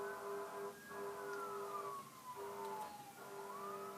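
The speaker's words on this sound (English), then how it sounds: "Some people should stop burning down their houses so that all this siren will stop." Emergency vehicle siren outside, wailing with slow rising and falling sweeps, faint and distant, alone without talk.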